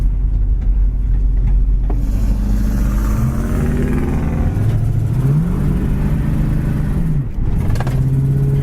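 A maroon 1973 AMC AMX with a V8 and four-barrel carburetor accelerates hard, its engine rising through several revving sweeps and gear changes, loud and close from inside the car, with no voices.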